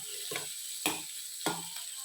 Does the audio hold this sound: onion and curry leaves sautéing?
yes